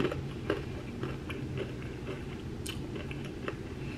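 Close-up crunchy biting and chewing of a cinnamon bun snack from Aldi, with irregular crisp crackles and softer mashing sounds repeating over several seconds, no talking.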